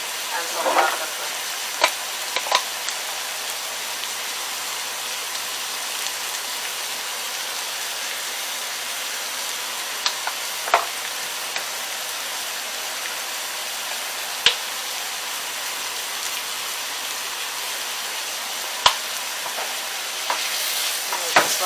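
Food seasoned with garlic powder, salt and black pepper sizzles steadily in a pan, an even hiss running the whole time with occasional sharp clicks and pops, no speech.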